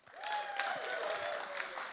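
A crowd claps in a sustained burst of applause, steady and full, with a voice briefly audible over it.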